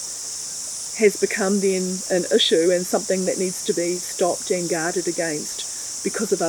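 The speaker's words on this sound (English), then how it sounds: "At the moment there's a lot of cicadas around" Cicadas chirping outdoors form a constant high, shimmering buzz that runs unbroken beneath a person talking throughout.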